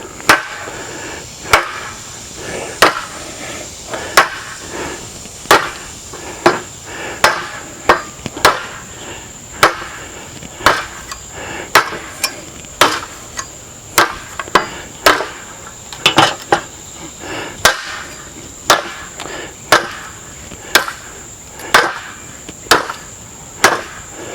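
A knife blade chops down into wood again and again, about twenty sharp, evenly spaced strikes, close and loud with no talking.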